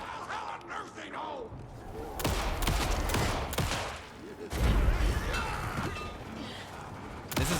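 Gunfire rings out during a boss fight in the video game Alan Wake 2, a monster rising from Cauldron Lake, with repeated loud bursts of shots and crashing impacts over a dense, busy game soundtrack.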